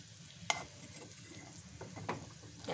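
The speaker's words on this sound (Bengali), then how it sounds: "সুজিটা আমি ঘিয়ে ভেজে নেব।" Semolina frying in ghee in a home kitchen, a faint, soft sizzle with occasional stirring scrapes and a sharp clink of a utensil early on, quiet and close with no talking.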